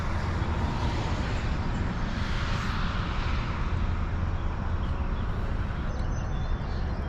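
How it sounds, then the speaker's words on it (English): T-38A Shooting Star jet trainer flying, a steady broadband roar that holds at an even level throughout, with no speech. "T-38A5 Shooting Star."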